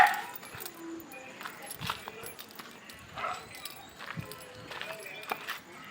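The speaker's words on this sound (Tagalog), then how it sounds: "Minsan may aso." A dog barks and whimpers faintly in the distance amid footsteps and quiet outdoor noise, with a few scattered sharp sounds.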